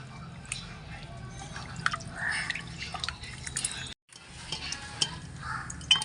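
Raw fish is washed by hand in water for cleaning, with close splashing, dripping and sloshing sounds that continue in irregular bursts, briefly dropping out for a moment midway.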